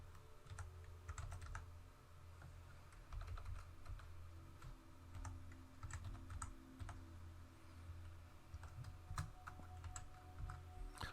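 Typing on a computer keyboard runs continuously at a quiet level, with rapid irregular key clicks over a low room hum and no talking.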